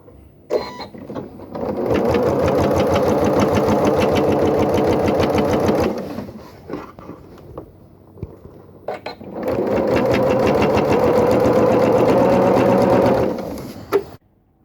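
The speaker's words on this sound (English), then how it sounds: "do my last line of stitching" Sewing machine stitching the final line on a quilt-as-you-go reversible quilt, running in two loud, steady whirring bursts of about four seconds each, separated by a quiet pause with small handling noises.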